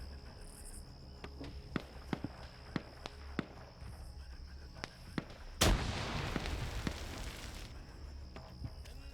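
Sharp, scattered gunshots crack one after another in a video game battle, followed by a sudden loud explosion on a building that leaves a lingering roar, with faint insect-like chirping in the background.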